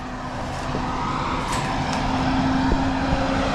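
A car or truck engine at a chimney construction site in Canada pulls away, a continuous low rumble that swells slightly as it drives off, with a faint tonal hum under it and no talking.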